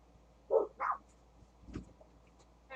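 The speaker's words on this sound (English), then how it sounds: "Hey, what are you guys barking at?" Dogs barking indoors, two sharp close barks followed by a softer, lower bark a moment later, with quiet gaps between.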